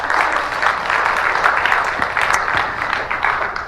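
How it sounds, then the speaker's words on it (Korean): Congregation applause in a church service, a sustained burst of many hands clapping, moderately loud and even from start to finish, filling the room without speech on top. "박수 한번 해주세요."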